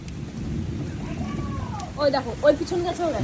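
Rain pours steadily outside during a nighttime storm, a constant close hiss with voices calling out over it near the end.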